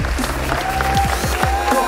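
An audience applauding at a YouTubers' night event, with clapping and crowd noise under a hum of voices and music for a couple of seconds.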